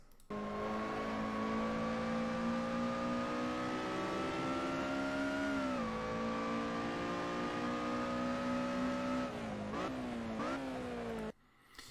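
A Lotus Elise SC engine in Assetto Corsa at Silverstone drones loud and close at steady revs, dipping briefly as the car brakes, then a couple of quick downshift blips before it cuts out.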